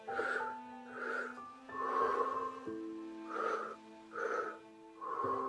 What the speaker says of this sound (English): Continue breathing through the mouth.